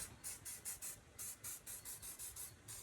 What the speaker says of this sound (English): just going to spray it lightly like this.